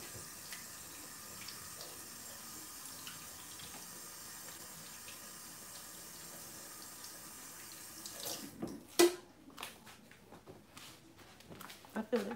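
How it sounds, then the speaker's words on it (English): Running tap water at a sink pours steadily for several seconds, then turns into splashing and patting as hands are washed under the faucet, with faint background sounds throughout. "let me wash my hands off so I can hold the machine well enough"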